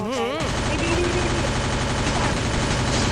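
Rapid bursts of Free Fire video game gunfire crackle almost continuously, loud and close, with an excited voice shouting briefly at the start.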